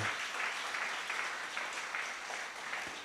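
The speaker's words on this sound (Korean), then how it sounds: "우리 박수로 한번" A congregation at a Friday church worship service claps together in a dense, even wash of applause. It stays fairly soft and sustained throughout.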